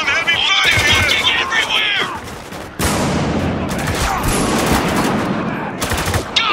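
Heavy gunfire in the war shooter Spec Ops: The Line, with dense overlapping rifle and machine-gun bursts and sharp cracks that pause briefly before a renewed barrage, while shouted voices carry over the din.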